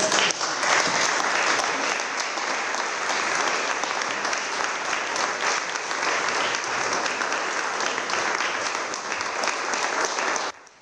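Long, steady applause from a crowd honoring Don Ettore Malnati, recognized for 50 years of church and social work at a civic greeting by the mayor in Trieste; dense, even clapping holds loud throughout and cuts off at the end.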